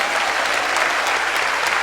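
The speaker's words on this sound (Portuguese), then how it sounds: "Vamos dar uma salva de palmas para o céu" Church congregation breaking into loud, dense applause, a thick continuous wall of clapping filling the short stretch without pause.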